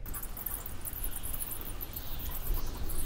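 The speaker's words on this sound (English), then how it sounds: "Listen, what you're hearing is a sky alive with bats." Bats calling in a desert night sky, thin high-pitched squeaks and chirps over a faint, rough background hiss, continuous and moderately quiet.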